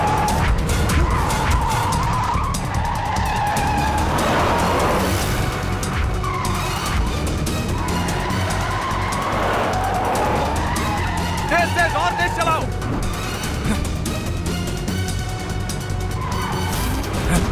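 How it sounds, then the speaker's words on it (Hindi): A speeding car skidding with screeching tires during a police chase in a Hindi-dubbed South Indian action movie, loud continuous engine roar and repeated tire squeals, with urgent shouting voices over it. "ए यही गाड़ी है, पीछा करो इसका।"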